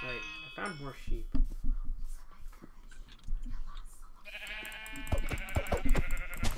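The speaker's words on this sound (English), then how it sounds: "I found more sheep." Sheep in the video game Minecraft bleat repeatedly in short, nasal calls, mixed with game sound effects and a tonal chime, while players talk over them.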